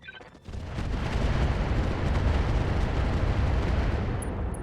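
A weapon fires in the RogueTech mech game: a heavy booming blast swells into a sustained rumbling roar that fills the clip, loud and close with no talk.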